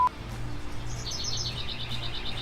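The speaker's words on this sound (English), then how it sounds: "Bird, shut up." A bird chirping outdoors near a construction area: a quick series of thin, high repeated tweets, moderately close, over a low steady background hum.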